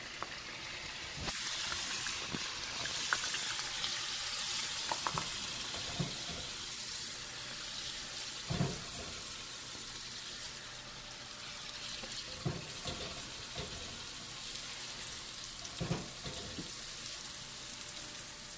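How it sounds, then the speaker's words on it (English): Beef pan frying in olive oil, a faint steady sizzle running throughout with occasional soft clicks and knocks of utensils, no talking. "I'm going to take it over, pan fry it. This is olive oil in here."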